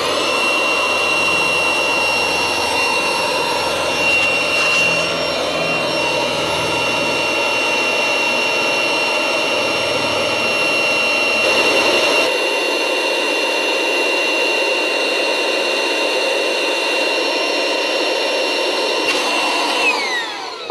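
A pump or blower inflating the body of a 40-year-old Miratex raft drones with a steady, loud whine that runs without a break, its low rumble dropping away partway through.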